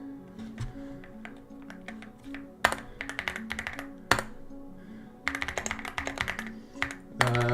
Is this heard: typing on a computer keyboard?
yes